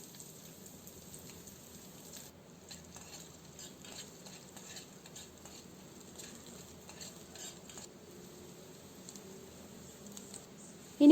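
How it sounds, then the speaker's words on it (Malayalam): Ginger, green chilies, garlic and curry leaves sautéing in hot oil for a Kerala puli inji, a soft, steady sizzle with scattered stirring scrapes and light crackle throughout, no talking. "ഇതിലേക്ക് ഇഞ്ചിയും പച്ചമുളകും ചേർക്കാം. പിന്നെ വെളുത്തുള്ളിയും കറിവേപ്പിലയും ചേർത്ത് മൂപ്പിച്ചെടുക്കാം."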